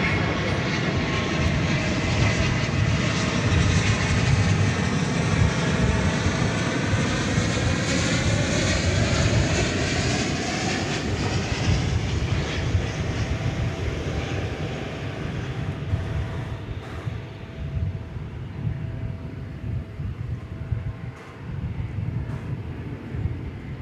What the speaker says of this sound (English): Flight 71 from Frankfurt, 777-200ER.